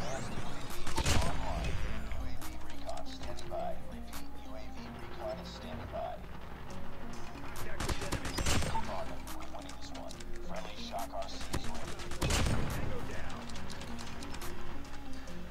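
The Striker shotgun in COD Mobile fires three loud, widely spaced blasts over steady game music and rhythmic in-game noise, while someone talks throughout.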